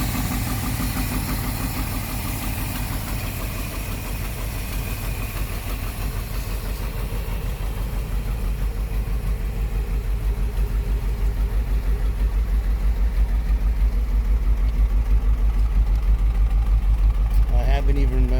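A 1964 Ford Thunderbird engine idles steadily and loudly for the whole stretch, with a faint rapid lifter tick running under the continuous low rumble.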